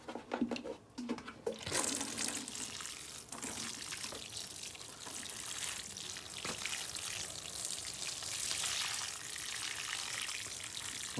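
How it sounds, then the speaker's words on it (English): Water pours from a watering can onto an indoor fruiting plant's soil, a close, continuous splashing hiss with a few brief handling bumps at the start. "We're going to take our watering can."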